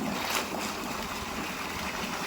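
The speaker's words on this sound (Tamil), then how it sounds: "மொத்தம் தண்ணி பாஞ்சிட்டு இருக்கு" Irrigation water rushes through a channel in a village farm field, a steady broadband gush heard close and unbroken, with no talk.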